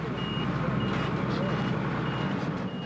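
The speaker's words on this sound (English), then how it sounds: "The truck backs in." A truck reverses at a wildlife conservancy during an animal-loading operation, its steady reversing beeps carrying over a dense rumble of engine and outdoor noise, with some voices faintly in the mix.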